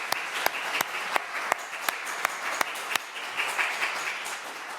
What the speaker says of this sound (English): So please just give them a round of applause again